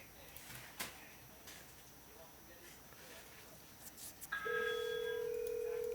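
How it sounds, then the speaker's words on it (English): A telephone begins ringing indoors in a MacBook repair workshop, a steady electronic tone that starts partway through after some soft handling and clatter, moderately loud and continuous to the end. "as soon as the phone starts ringing"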